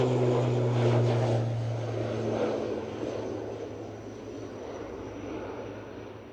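A JetBlue airliner at Edinburgh Airport roars with a broad jet rumble and a low engine drone that fades steadily as it moves away, heard alone without talking.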